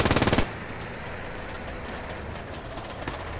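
MG 42 machine gun in the video game Post Scriptum, heard as a quick loud burst of rapid shots in the first half second, followed by steady rumbling vehicle or train-like noise.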